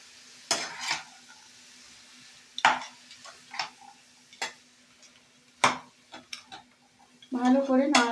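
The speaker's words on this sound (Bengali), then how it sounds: "ভালো করে নাড়াচাড়া করে নিতে হবে, যাতে সব মশলাটা চিচিঙ্গার মধ্যে মিশে যায়।" Ridge gourd with poppy seed spice paste is stirred in a pan, giving close, irregular scraping and clinking strokes of a spoon against metal over a faint sizzle, ending with a louder burst of frying.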